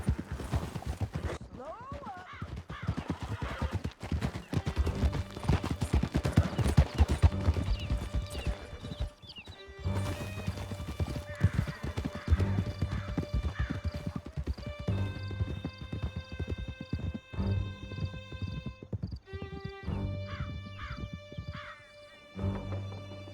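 Horses galloping in Red Dead Redemption 2, steady hoofbeats clip-clopping throughout with occasional whinnies, layered under music and bursts of character dialogue.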